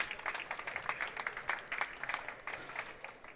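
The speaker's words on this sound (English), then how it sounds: "Can we have a round of applause for the post-production hardware winners?" An awards-ceremony audience applauds post-production hardware winners, a fairly faint but continuous patter of many hands clapping with distinct individual claps standing out.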